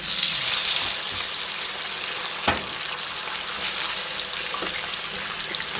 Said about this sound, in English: Go ahead, throw in the half a glass of water.